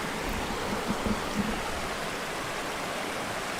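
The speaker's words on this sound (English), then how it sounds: "And now standing next to creek." A creek flows at the foot of a hill, heard from just beside the bank as a steady, broad rushing wash with a few faint low knocks near the start.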